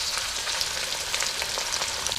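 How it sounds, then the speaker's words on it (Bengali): Chopped onions frying in the hot oil left over from frying fish, giving a steady dense sizzle and crackle with no pauses, moderately loud and close, with no voices. "যে তেলে মাছ ভেজে নিলাম সেই তেলে পেঁয়াজ কুচি দিয়ে দিচ্ছি"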